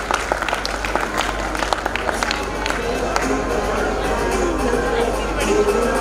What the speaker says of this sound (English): Parents, I request you to please give a huge applause for exceptional faculty.